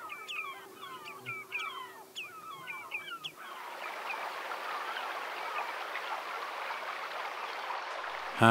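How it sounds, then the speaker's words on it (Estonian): Shallow river rapids on a coastal Estonian river, the water burbling and rushing steadily, with birds chirping clearly over it at first. "suliseb vesi nüüd madalates kärestikes"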